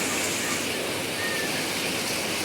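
Steady rain falls over a Konkan village garden where tomatoes are being picked, a continuous, even hiss of drops filling the whole clip at moderate level with no distinct voices.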